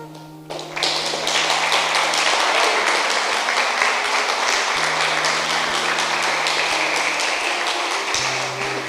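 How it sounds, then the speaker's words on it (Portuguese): A church congregation applauds during a worship service, a dense, sustained wash of many hands clapping at full volume, with low organ or keyboard tones held underneath. "Você pode aplaudir o Senhor?"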